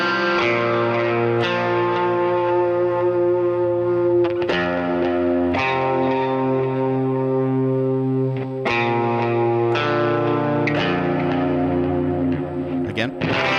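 Electric guitar plays the intro lead to a worship song, using distortion, chorus and echo effects, with melodic notes struck every second or two over a continuous ringing bed of tone.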